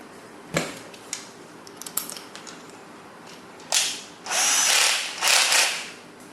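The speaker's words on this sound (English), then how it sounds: "what you need to do is drill it out" A few clicks and knocks, then an electric drill with a 6 mm bit whirs in two short, loud bursts near the end, up close, drilling out the pin of a Samsonite suitcase roller wheel.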